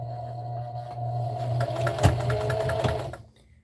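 Sewing machine stitching forward then reversing at a stitch length of about 3, starting at a corner of a dish-drying-mat pad; a steady close mechanical hum with needle clatter for about three seconds before stopping.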